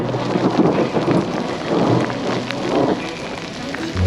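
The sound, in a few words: thunder and rain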